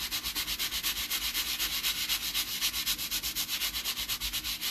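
Wax rubbed into painted fabric gives a fast, steady scrubbing rasp, the brush strokes repeating in an even rhythm, close up and fairly quiet, with no voices.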